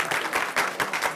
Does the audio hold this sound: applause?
yes